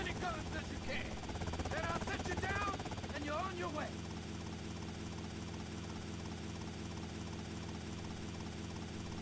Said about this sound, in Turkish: Bu arada helikopterin sesi çok fazla.